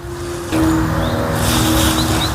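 A car passes near a house in a residential area on a drizzly, rainy day. A loud broadband rush swells in after a moment and holds steady, with faint tonal hums running underneath.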